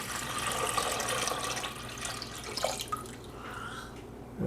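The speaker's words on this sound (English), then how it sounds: "we're gonna go ahead and put water in this thing right now. And it says to pour it in, so we're gonna pour it in" Water is poured into a Tiger electric water boiler, a faint, steady trickle and splash filling the tank for several seconds with no talk.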